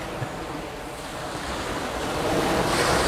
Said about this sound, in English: the water's pretty high and kind of rough